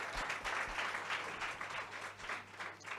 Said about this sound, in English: Let's give this amazing gent a round of applause.